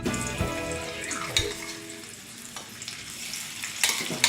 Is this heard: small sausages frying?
yes